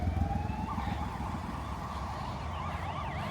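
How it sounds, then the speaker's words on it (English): Emergency vehicle sirens wail along a street in Romania, a steady rising and falling tone over dense traffic rumble and street noise, moderately distant but clearly audible throughout. "Oh, sirens everywhere."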